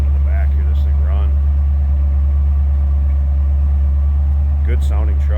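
A 1966 Chevrolet C10 pickup engine idles steadily with a deep, even low rumble, close by, as someone talks briefly at the start and again near the end.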